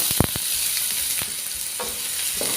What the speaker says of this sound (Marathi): जो मी बारीक कांदा घेतला होता तो कापून घेतला आहे तो आपण घालूया